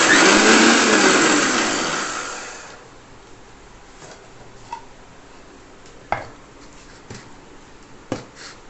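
A mixer grinder whirs loudly while grinding garlic idli podi, a steady roaring drone that winds down after a couple of seconds, followed by quiet scattered taps and knocks.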